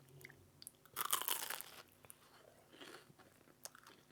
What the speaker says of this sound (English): It's going to have a proper crunch to it as well, you can tell.